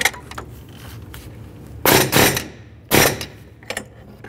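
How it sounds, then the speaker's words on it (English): A few sharp metallic impacts from an air hammer tightening a fan clutch nut on a 2002-2009 Chevrolet Trailblazer 4.2L inline-six, two heavier bursts close together, with lighter clanks and tool noise around them. "Now I'm going to give it a couple loving bonks with the air hammer."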